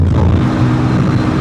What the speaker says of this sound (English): I'm always driving with the rear windows open, and I get a lot of wind noise, like those wind vibrations